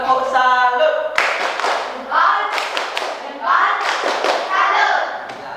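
An Indonesian classroom breaks into a patterned salute clap, sharp rhythmic hand claps and thumps in repeated bursts from a group, with voices of children and a teacher mixed in.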